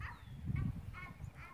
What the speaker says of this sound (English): We're hanging out with all the chickens